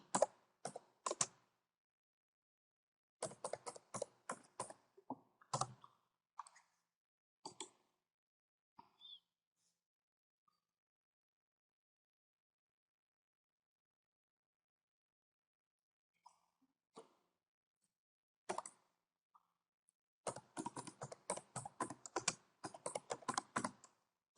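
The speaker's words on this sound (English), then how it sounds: "So we're going to type offline files group policy." Quick bursts of computer keyboard typing come in short clustered runs separated by long silent gaps, close and clear, with a denser final flurry of keystrokes.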